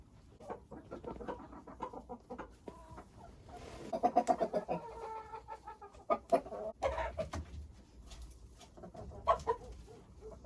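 Chickens clucking and calling close by at a poultry keeper's coop, several birds overlapping in irregular bursts with louder squawks mid-clip.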